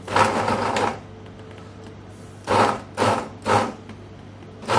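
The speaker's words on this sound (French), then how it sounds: "On va commencer à mixer une première fois comme ça." Blender whirring as it mixes lemon, lime and orange zest with salt, one long burst followed by three short pulses, close and loud with no talk.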